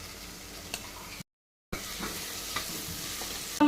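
Curd stirred into sautéed onions, tomatoes, mint and coriander for biryani, giving a steady sizzle with soft stirring scrapes that drops out briefly midway, then resumes with a louder clatter at the end.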